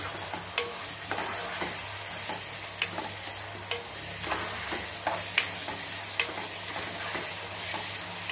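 Cashew and poppy seed paste goes into a hot pan for Kolhapuri egg masala, frying with a low steady hiss broken by sparse spoon clicks and scrapes as it is stirred.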